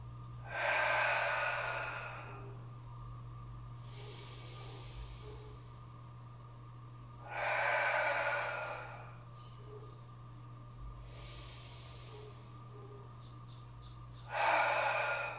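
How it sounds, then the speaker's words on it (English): Three slow, deep breaths during a hip, shoulder and ankle mobility stretch, each a long airy rush of inhale and exhale spaced several seconds apart, close and clear over a steady low room hum. "Let's take 3 deep breaths here."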